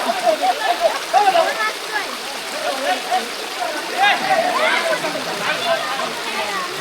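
Steady rushing water from a deep river during a Ganesh idol immersion fills the background continuously, with bright splashing textures and a faint voice beneath.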